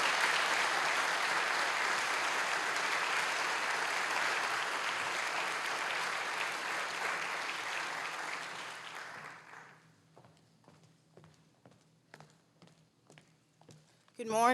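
A conference audience at the NNSC National Conference applauds to welcome a keynote speaker, with steady, full applause for about nine seconds. It then thins into a few scattered, fading claps, and a voice starts at the very end.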